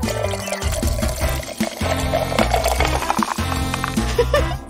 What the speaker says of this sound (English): Now pour in some soda.